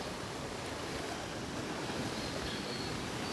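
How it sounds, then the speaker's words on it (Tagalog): Strong river water in South Cotabato rushing steadily, a dense, loud, continuous roar with no talk over it. "Tingnan nyo yung tubig, ang lakas-lakas eh."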